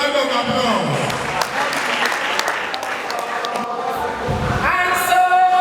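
Audience applause at a district chairman installation ceremony, a sustained wash of clapping filling the hall for several seconds, steady and fairly loud, with scattered voices and a few cheers mixed in.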